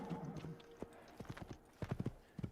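Horse hooves clip-clopping in the video game Assassin's Creed, quiet irregular clusters of hoof strikes with a short whinny-like sound at the start.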